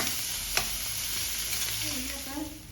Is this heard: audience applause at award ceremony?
no